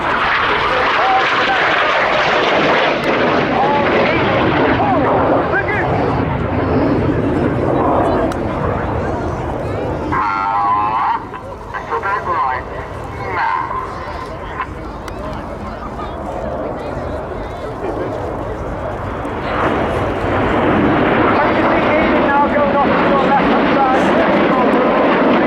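A Red Arrows jet, Red 9, roars past at an airshow, loud and sustained, dipping briefly midway before surging again, under continuous commentary over a public address.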